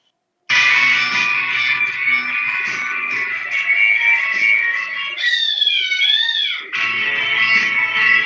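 Recorded cat meows play as music: a loud, sustained, tonal meowing with a wavering, sliding pitch partway through, then a brief drop before resuming, with no talking.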